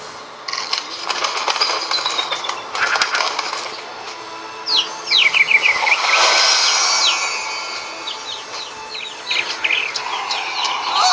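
Birds chirp and flutter in the video game Hungry Dragon, a busy chorus of high tweets and wing flaps over a steady game background, fairly loud throughout.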